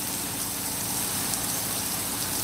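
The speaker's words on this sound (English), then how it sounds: "it's not really that bad rain" Rain falls outdoors as a steady, even hiss, close and constant throughout with no other sounds.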